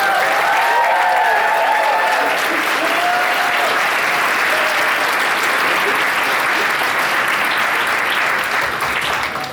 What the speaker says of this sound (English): Can we give the OME team a huge round of applause?